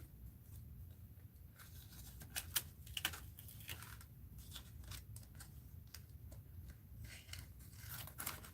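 Scissors cut paper in a straight line for a mixed-media art journal, a quiet run of crisp, rapid snips and crunches close by with no talking.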